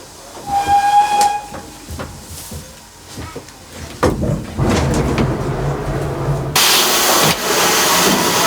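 A Great Western Railway steam locomotive whistle, sounded by its chain, shrieks loudly after scattered mechanical clanks and hissing, the blast holding steady to the end.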